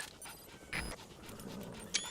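A wild dog pup in Metal Gear Solid V panting softly in quick rhythmic breaths, faint and close, with a couple of brief louder puffs and no talk.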